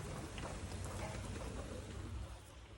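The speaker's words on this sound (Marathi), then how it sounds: "आता पाऊस एवढा पडालाय की काय सांगायला बघा पाऊस पडालाय" Steady rain falls continuously, a soft even hiss of drops with a faint low rumble underneath and no talking.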